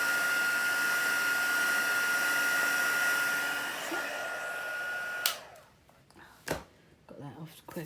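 Heat tool melting embossing powder on a stamped card, a steady close whirring blow with a high whine that cuts off partway, followed by a few soft knocks and handling noises.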